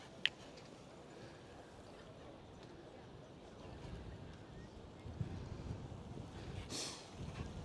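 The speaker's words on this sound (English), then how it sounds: "You can hear a bit of the wind now sometimes." Gusty wind along the Amstel River rumbles low against the microphone, faint and steady, swelling a little toward the end, with a couple of small knocks.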